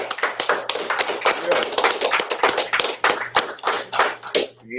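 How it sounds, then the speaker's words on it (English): Rhythmic audience clapping at the Westcoast Cookout 2023 gathering, steady beats in time with voices talking and calling out over them. "clap it up"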